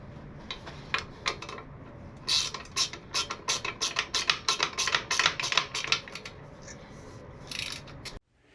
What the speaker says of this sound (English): the fender bolts, just tighten them up. Tighten them up till it all feels like it stops.